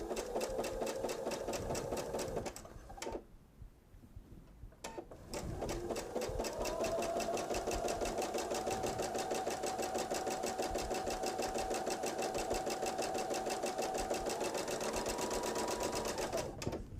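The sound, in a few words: sewing machine stitching a bench pillow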